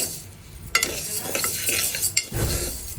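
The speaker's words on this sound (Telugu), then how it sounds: "పప్పు ఫస్ట్ డ్రైగా అలా రోస్ట్ చేసేసి" Lentils (dal) dry-roasting in a pan for tomato pappu, stirred with a utensil that scrapes and clinks against the metal, with a soft sizzle underneath and a couple of sharper knocks, close and alone.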